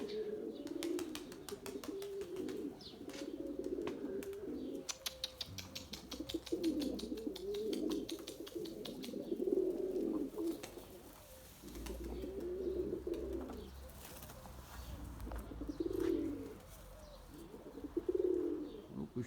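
Pigeons coo repeatedly in low, throaty bursts close by in a coop, with soft rustling and occasional faint chirps in the background.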